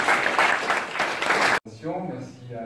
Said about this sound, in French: Je pense qu'on peut l'applaudir pour